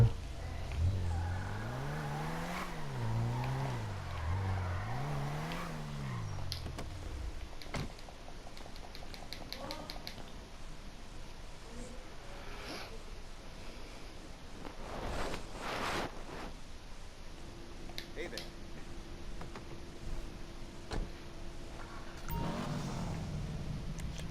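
An in-game car engine revs and changes pitch in GTA V, rising and falling through gears early on, then gives way to quieter driving noise and clicks near the end.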